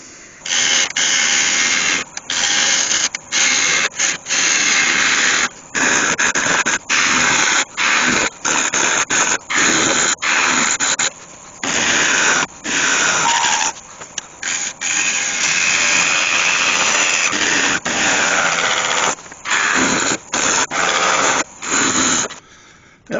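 A wood lathe shapes a live edge cherry bowl turned from a tree branch, giving a loud, continuous whirring cut that stops and restarts in frequent short breaks as the tool leaves the wood, with no talk.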